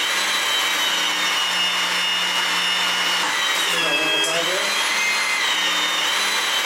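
A HYTORC hydraulic pump runs steadily while driving a Smart Stud tool to stretch a bolt, a loud continuous mechanical hum with a low drone and a brief pitch shift midway.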